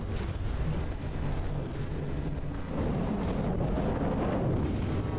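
Heavy Zeus cannons fire in From the Depths during a battle involving an ultra battleship, producing a dense, continuous roar of booming, rumbling blasts that overlap without pause.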